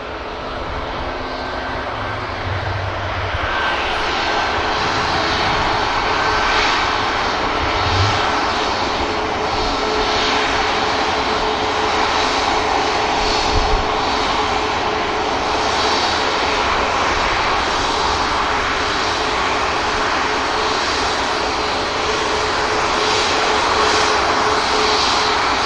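Airliner engines roar in a steady, loud, broadband drone throughout as a jet prepares to depart Manchester Airport on an hour-long flight to Paris Charles de Gaulle.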